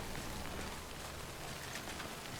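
Rainfall in the game Death Stranding, a steady, dense hiss of drops on the ground, constant and alone with no voices.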